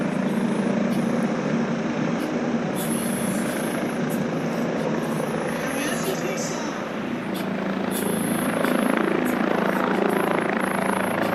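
Steady, loud whirring drone of an electric air taxi flying in gusty air, a continuous rotor hum with a bright high whine running throughout, nearby and unbroken.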